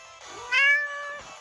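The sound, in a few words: cat meowing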